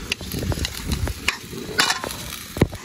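Dry-style quail adobo sizzles in a pan while it is stirred, with crackling fry noise and sharp scraping clinks of a utensil against the pan. The sound is close, with no talking.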